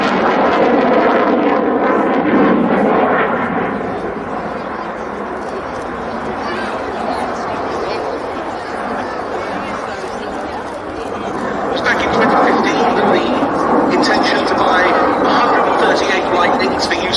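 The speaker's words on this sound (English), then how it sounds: "You see the aircraft now coming back in towards the display" An F-35B fighter jet flies a display at the Duxford Battle of Britain airshow, a broad loud roar that swells, eases slightly, then builds again, with a commentator talking over it and crowd chatter beneath.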